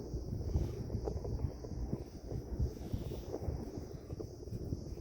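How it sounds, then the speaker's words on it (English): Wind blowing hard near the Mcleodganj ropeway in cloudy hill weather, buffeting the microphone as a continuous, loud, rumbling roar with gusty fluctuations and no speech. "the wind is kind of making noise"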